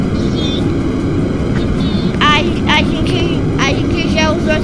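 A steady, loud engine drone from a plane flying in a Roblox Build a Boat for Treasure game runs throughout, with children talking over it.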